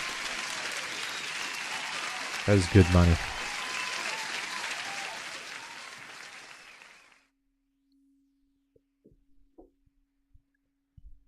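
A canned applause sound effect rings out for about seven seconds during a live futures day-trading stream, then cuts off abruptly; a brief spoken remark is heard during it, and a few faint clicks follow in the quiet.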